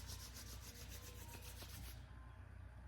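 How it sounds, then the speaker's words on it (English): Palms rubbed together briskly during a guided breathing and meditation exercise, a steady close dry friction hiss that runs for about two seconds and then thins out. "Rub your hands together. Rub them really fast to make heat."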